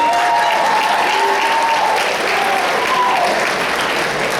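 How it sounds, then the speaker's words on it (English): Steady, dense applause from a large crowd at a Christian school chapel service, loud and continuous throughout with a few faint whistles rising above the clapping. "Let's hear it for Brady."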